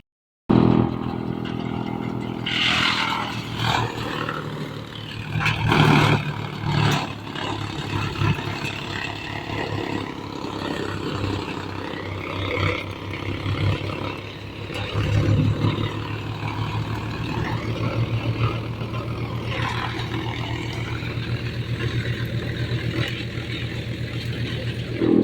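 A tractor engine runs steadily while hauling a load of cut babul wood, a continuous low rumble with some rattling and occasional revving surges, close and fairly loud throughout.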